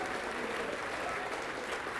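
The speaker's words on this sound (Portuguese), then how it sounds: "Vamos aplaudir mais, está chegando mais" Worshippers applaud during a church service, a continuous wash of many hands clapping at a distance, fairly soft and even from start to finish.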